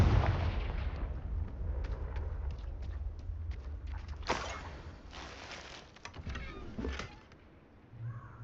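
Confringo fire-spell blasts in the Hogwarts Legacy video game: a couple of sharp cracking bursts amid clicks and rustling game sounds, moderately loud, with a low rumble toward the end.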